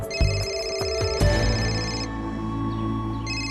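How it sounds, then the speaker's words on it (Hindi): A phone ringtone chimes loudly with repeated electronic tones, close and unaccompanied by talk. "तुम्हारा फोन बज रहा।"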